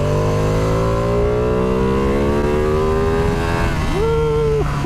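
A Ducati Panigale V2 motorcycle engine with quick shifter and blipper drones steadily and loudly as it climbs through the revs, then briefly drops and rises again during a shift near the end.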